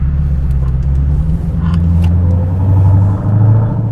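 A Dodge Hellcat Jailbreak muscle car with a 717 hp engine heard from inside while cruising, giving a loud, steady, deep engine rumble with a slight rise in pitch toward the end and no talking.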